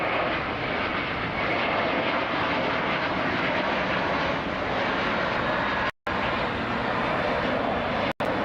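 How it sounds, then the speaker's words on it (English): An Airbus A330 rolls down runway 24 Left at LAX on its takeoff run toward New York JFK, its engines a loud, steady broadband roar throughout with two brief dropouts near the end. "we got an A330 rolling down 24 left, heading to New York JFK Airport in New York City."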